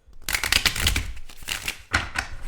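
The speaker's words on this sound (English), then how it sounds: "Let's shuffle these tarot cards a little bit more" Tarot cards being shuffled by hand, a run of crisp, close riffling and flicking bursts with short pauses between them, loud and near, with no talking.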